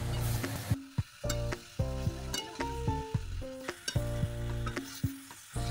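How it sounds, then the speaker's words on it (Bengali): Ground ginger, garlic and green chillies frying in a pan while being stirred, a constant close sizzle broken by repeated sharp scrapes and knocks of the spoon against the pan. "হালকা কিছুটা ভেজে নেবার পর তার মধ্যে বেটে রাখা আদা, রসুন আর কটা কাঁচা লঙ্কা দিয়ে আরও ভালো করে কষিয়ে নিতে হবে।"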